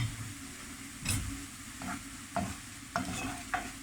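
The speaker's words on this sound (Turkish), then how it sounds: "2-3 dakika bunları kavuralım" Onions and peppers sautéing in oil in a pan, a soft steady sizzle broken by several brief stirring scrapes, close and fairly quiet with no talking.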